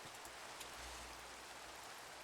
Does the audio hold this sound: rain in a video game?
yes